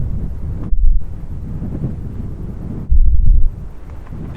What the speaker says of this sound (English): that wind is really a killer